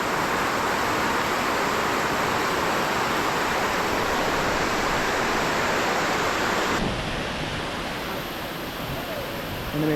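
Small waterfalls tumbling along a stream at Kunudiyapawwa, a steady, loud broadband rush of water that holds constant throughout, slightly softening near the end.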